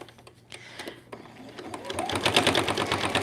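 A sewing machine stitching a label onto a small scrappy fabric mug rug, starting with a few separate clicks and then building into a loud, rapid, continuous whirring stitch run; a voice is heard faintly at the start.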